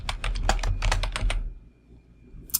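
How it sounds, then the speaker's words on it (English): Quick run of computer keyboard keystrokes, about ten close crisp clicks over a second and a half while searching an online map store, then near silence with one faint late tick. "So let's type in Nat Geo."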